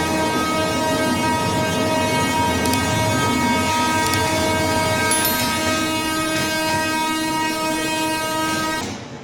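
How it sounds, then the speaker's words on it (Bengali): A train rumbles past close by while crossing a bridge in flood conditions, its horn sounding one long, sustained blast, fading slightly at the very end. "মারাত্মক ঝুঁকির মধ্য দিয়ে এই ট্রেনটি একটি ব্রিজ পারাপার করছে"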